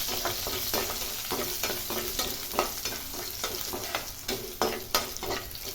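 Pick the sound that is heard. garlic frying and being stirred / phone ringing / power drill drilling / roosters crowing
garlic frying and being stirred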